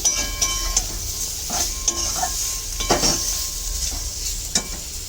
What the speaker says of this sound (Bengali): এখন এই সিদ্ধ করা আলুটাও দিয়ে দিলাম। আলুটাও কষিয়ে নেব।